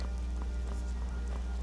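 Rain falling in the Skyrim video game, a soft continuous patter of drops with faint scattered taps, steady and low over a quiet background.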